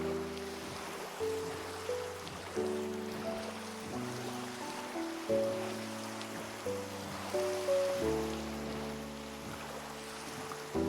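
Steady rain falls in Minecraft, a soft continuous patter carried under a sustained game music drone with no talking.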